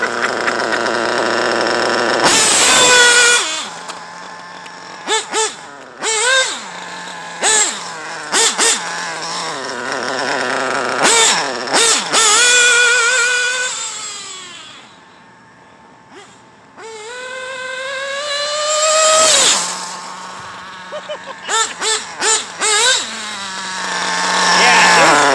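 A Kyosho MP9 TKI4 nitro RC buggy with a modded RCR .32 engine screams through repeated high-revving runs and braking slides, its buzzing engine rising and falling in loud bursts with short pauses, close by throughout.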